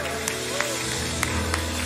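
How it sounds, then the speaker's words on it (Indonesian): A church congregation at a worship service applauds for Jesus, producing a brief burst of scattered clapping over crowd noise and a low musical drone. "tepuk tangan yang lebih dahsyat buat Tuhan Yesus"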